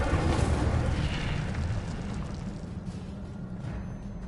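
Incendio fire spell cast in the Hogwarts video game, a loud roaring whoosh of flame that bursts at the start and rumbles steadily, fading slightly over a few seconds with no voices.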